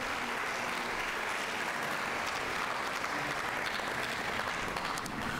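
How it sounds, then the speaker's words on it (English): An audience at a junior science fair awards ceremony claps throughout, a steady, even wash of applause from many hands, fairly loud and continuous with no voices standing out. "Give them a round of applause."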